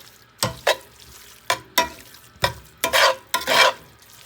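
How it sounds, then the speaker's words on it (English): Tamale filling stirred in a pot, heard as a run of close, distinct scraping strokes in uneven bursts with short pauses between them. "Give it a good mix."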